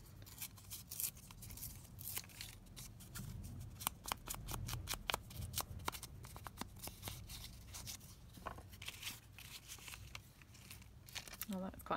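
Paper is torn by hand for an envelope-pocket craft, sharp ripping and crinkling bursts coming close and fairly loud, with handling rustle between them and a low background murmur.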